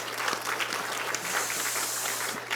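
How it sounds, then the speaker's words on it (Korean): A church congregation at a Sunday service claps in encouragement, with dense, even applause filling a short stretch at steady loudness over a low hum. "우리 박수로 한번 격려해 주셨으면 좋겠습니다."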